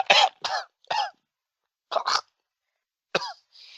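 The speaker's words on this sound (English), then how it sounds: "So go ahead and try to talk while you're coughing." A person coughs several times in quick, harsh bursts after a sip of moonshine, pauses, then coughs twice more and once again, ending with a raspy breath.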